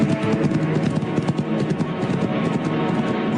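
A horse's hooves clip-clopping steadily and evenly throughout, fairly loud and close, over a low continuous rumble, with no voices.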